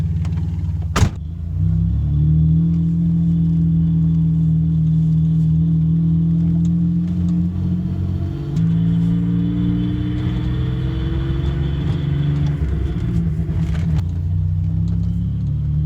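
A Subaru XT6 six-cylinder, five-speed coupe drives along with a steady engine hum and road rumble, the pitch shifting as it speeds up and changes gear, heard from inside.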